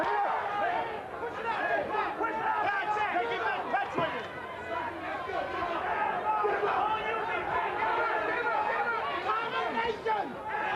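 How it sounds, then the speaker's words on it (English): Arena crowd at the Michael Spinks vs Larry Holmes heavyweight championship fight roars in a dense, continuous swell of cheering and chatter, with an announcer talking over it. "Crowd very supportive right now of Michael Spinks."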